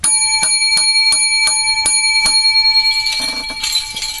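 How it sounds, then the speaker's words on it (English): Seven sharp, ringing bell strikes open a show, each a bright metallic ding at a steady pace, loud and close, followed by a brief jumble of faster jingling as the ringing trails off. "First the levity bell. Then seven lucky bells for the show."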